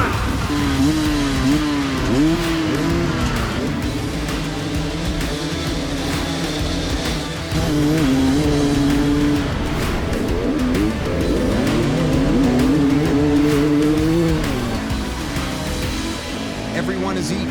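Dirt bikes race through a pro hard enduro event in Little Hocking, Ohio, engines rising and falling in rough revving sweeps at mid distance, with someone talking over the top almost the whole time.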